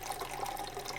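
Purified water streams from a countertop reverse osmosis filter dispensing a 12-ounce portion, a steady, faint, even trickle running for the whole second with no talking.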